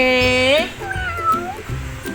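A cat gives a drawn-out meow up close, followed by softer chirping mews, with a person speaking quietly over it.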